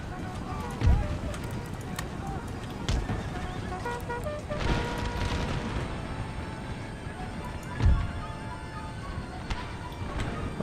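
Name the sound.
cavalry horses galloping in Empire: Total War video game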